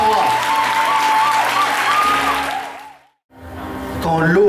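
A church congregation applauds and shouts acclaim to the Lord, loud sustained clapping and voices that fade out briefly and then swell back in.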